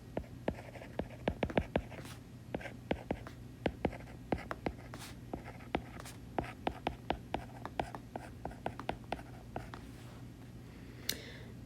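Pen or pencil scratching out math on paper, a steady run of short, crisp strokes and taps close by, with a faint low hum beneath and no talking.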